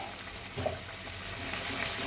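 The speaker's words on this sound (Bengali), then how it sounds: "এবার আমি মশলাটা একটু কষিয়ে নিই ভালো করে।" Ground spices with Kashmiri red chili powder are stir-fried in a pan for a tofu dish, giving a soft, steady sizzle with faint scraping, quiet and close.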